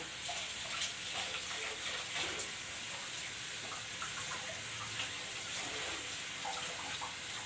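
Running tap water splashing steadily while something is rinsed in a home kitchen, a continuous soft gush at moderate distance with no talk.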